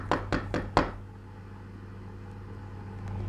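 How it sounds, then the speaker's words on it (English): Four quick knocks on a door in the Roblox game Bloxburg, evenly spaced and close, followed by a low steady hum. "hopefully this guy knocks, opens the door"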